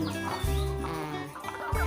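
Hens in a 50-bird laying coop cluck in short repeated bursts at feeding time, fairly close and moderately quiet, over a faint background murmur.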